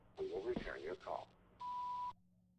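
After a recorded voice greeting, an answering machine gives its beep: a single steady, mid-pitched electronic tone lasting about half a second, followed by quiet.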